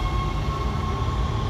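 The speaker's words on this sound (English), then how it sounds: "Oh, the tram's already here." A tram pulling into a station in the sci-fi horror game Dead Space: a steady, loud low-pitched rumble and rolling rail drone that holds evenly through the moment, with no talk over it.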